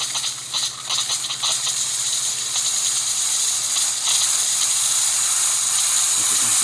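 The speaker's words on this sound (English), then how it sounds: "nice and steady steam coming out of the machine." A steady, loud hiss of steam blowing from a Saeco Vspresso espresso machine wand, continuous and close, with faint rumbling underneath.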